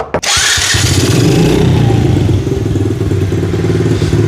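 A 1997 Honda XR70R pit bike fires up on its electric starter with a brief crank, then settles into a loud, steady, close-up engine run with a rattly buzz.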